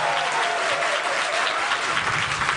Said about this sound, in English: Please join me in giving a very warm round of applause to Lola Ferrand and Maria Lelli.